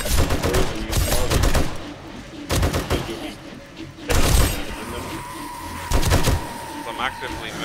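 Gunfire from the survival video game 7 Days to Die during a day 56 horde night, loud repeated bursts of rapid shots in clusters, with voices talking over the fighting.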